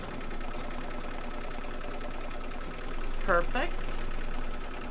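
An embroidery machine stitching down a quilt block piece whirs steadily at close range under a short spoken word, with a brief louder burst near the end.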